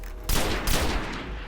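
A semi-automatic gun in the Destiny video game fires a quick burst of loud, close shots with booming low-end reverb, two clear blasts standing out, and no talking over it.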